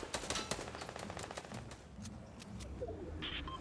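Rapid rifle bursts in Fortnite during a Fall Skirmish solos match, a fast string of sharp cracks at the start and then scattered single shots at mid distance, without any talking.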